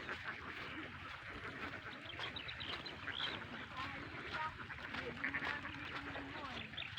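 Many ducks on a farm duck yard quack steadily in a busy chorus, with people talking over the calls throughout.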